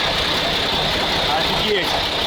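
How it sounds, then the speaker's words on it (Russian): A Praga V3S 6x6 truck on big wheels, differential lock engaged, pushes through a waist-deep swamp, its engine a steady, loud, close drone over broadband churning noise, with a brief voice faintly underneath. "Включаем блокировку. Сейчас Прага попрет."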